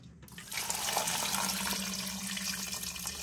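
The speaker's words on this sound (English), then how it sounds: "I'm going to put about 4 cups of water, I think is what I'm going to need" About four cups of water pour from a tap-like stream into a large Ninja Foodi cooker holding turkey tails and navy beans, a steady close splashing rush that starts abruptly and runs on alone.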